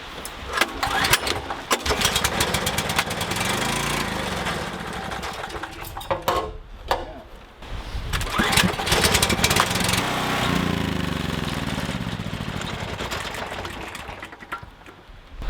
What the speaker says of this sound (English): I bought a much smaller backup generator just for emergencies.